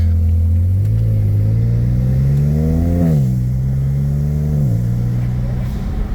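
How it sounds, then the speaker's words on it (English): A turbocharged BMW 335i N54 engine with relocated inlets and 3-inch downpipes drones loudly, climbing as it revs through gears with a deep, throaty intake roar and brief dips at each shift. "That intake sounds nuts."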